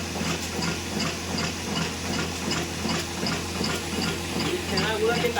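A batasa sweet-making machine runs with its belt, a steady rhythmic mechanical chug and hiss close by, with people talking over it.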